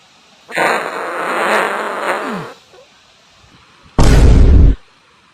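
Two loud, blaring bursts of rude noise, a long one followed by a pause and a shorter, deeper, booming one.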